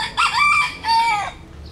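A small, scaleless-legged chicken of a wild junglefowl-like breed gives two loud, close calls on a farm, a harsh crowing squawk followed by a second shorter one, with nothing else audible.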